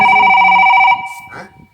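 A telephone rings with a steady electronic tone that holds for about a second in a Telugu horror drama scene, then cuts off, followed by faint movement and a brief voice.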